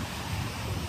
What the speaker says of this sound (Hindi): तो ये देखें इसकी लहरें